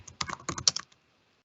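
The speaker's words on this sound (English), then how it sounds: "How bad I am at typing when under pressure." Fast, hurried typing on a computer keyboard, a close burst of clattering keystrokes lasting under a second before it stops.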